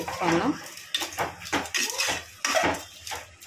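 Gongura curry being stirred in a metal pot, with repeated clinks and scrapes of a spoon against the pan, close and fairly loud, mixed with a voice talking over it.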